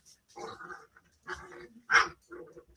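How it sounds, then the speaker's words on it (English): A puppy makes short, low growling and grumbling sounds in several separate bursts with pauses between, close and fairly quiet. "that noise you're hearing is one of the puppies"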